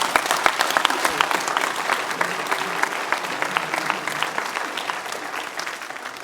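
Audience at a youth camp testimony gathering breaks into lively applause, dense overlapping claps with a few sharper close hand strikes, fairly loud and tapering gently toward the end.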